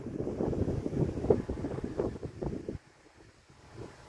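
Strong gusty wind buffets the microphone while a homemade kite flies outdoors, a loud rumbling rush that drops off abruptly near the end to a quieter breeze.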